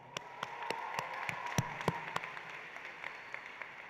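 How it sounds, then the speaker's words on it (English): Scattered handclaps ring out from a small part of the audience at a university new student induction ceremony, a few sharp, uneven claps spaced apart, with no voices. "Let's give a big clap for y'all."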